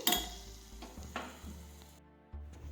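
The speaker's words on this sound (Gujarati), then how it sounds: "આ રીતે આપણે સાતળી દઈશું" Garlic Schezwan chutney sautéing in a pan on a gas stove gives a close, steady sizzle broken by a few spoon strokes against the pan, then cuts away to near quiet before a last brief scrape.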